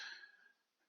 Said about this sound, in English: Gonna cough a little.